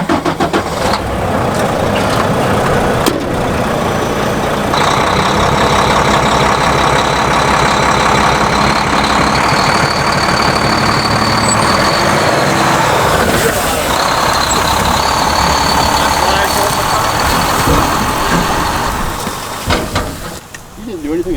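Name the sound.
truck engine idling while warming up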